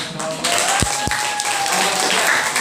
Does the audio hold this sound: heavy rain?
no